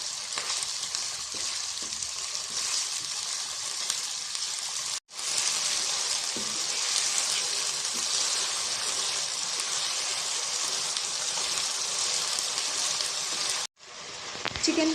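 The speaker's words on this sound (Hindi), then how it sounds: "जब तक चिकन का कलर सफ़ेद ना हो जाए इसको हमने फ्राई करना है" Chicken pieces fry in a pan for a creamy jalfrezi, a loud, even sizzle and crackle that runs without a break apart from two brief cuts.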